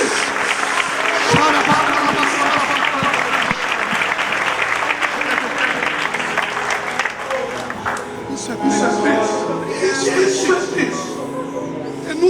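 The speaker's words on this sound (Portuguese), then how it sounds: "Se você ama esse Jesus, aplauda, adore, celebre, exalte ao Rei dos Reis" A church congregation applauding during a Portuguese-language sermon, sustained dense clapping and crowd noise that fills the whole stretch, with voices and music rising beneath it toward the end.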